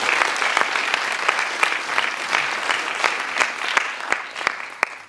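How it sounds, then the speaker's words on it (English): Audience applause for the director of a small youth jazz combo at a summer camp showcase: a steady patter of clapping with sharp individual claps standing out nearby, sustained without pause. "Let's give him a big round of applause."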